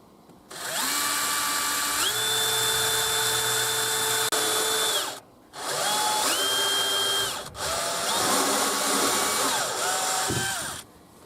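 A power drill with a step drill bit bores a hole into a water tank. The loud, close motor whine rises in pitch as the bit steps up, and it runs in three long bursts with short pauses between them.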